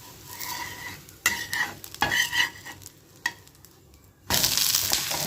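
Adai dosa sizzles in oil on a hot pan, a steady frying crackle broken by a few louder scraping and clattering bursts as it is handled and turned, rising to a loud, bright sizzle at the end; no speech.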